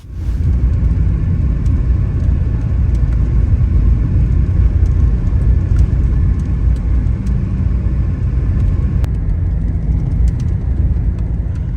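Truck engine rumbling steadily at close range on a cold morning, a continuous low drone with a few faint clicks over it and no talking.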